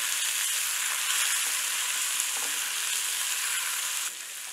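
Thin slices of green tomato fry in a pan with a close, loud, steady sizzle that drops slightly toward the end, with no voices.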